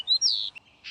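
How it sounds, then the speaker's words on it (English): A nightingale sings a short burst of bright, rising chirps and whistles, clear and close against a quiet background. "Nightingale. N-I-G-H-T-I-N-G-A-L-E. It's nightingale."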